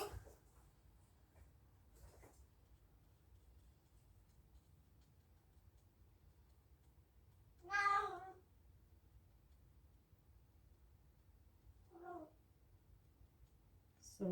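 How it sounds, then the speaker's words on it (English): Cats meowing in a quiet room, one clear drawn-out meow in the middle followed by a shorter, fainter one a few seconds later, with soft brief sounds at the edges and no talking. "Sorry about the noises of my cats."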